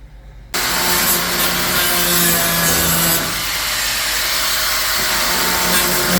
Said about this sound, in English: Can't take this off until I cut those two little welds. Okay. So you need the grinder.